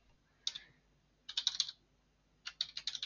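Three quick bursts of computer keyboard typing, close and fairly quiet, with short pauses between them and no talking.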